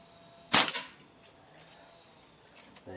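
A Weihrauch HW97KT air rifle fires at 25 metres, giving a sharp crack followed by a second metallic snap as the pellet strikes the target. A faint ping follows shortly after.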